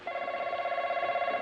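A telephone bell rings steadily and close by for the whole moment, a rapid warbling trill with no voices over it.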